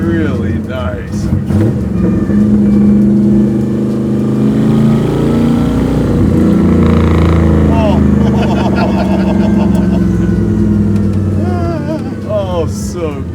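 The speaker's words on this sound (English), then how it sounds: "The downshifts are cool." A '51 Ford Coupe's engine rumbles steadily and close, rising and falling through revs as it downshifts, with speech running over the engine throughout.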